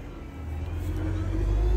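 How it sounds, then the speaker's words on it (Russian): A bus engine pulls away nearby, a low steady rumble that swells and grows louder toward the end, with no talking. "Автобус пошел."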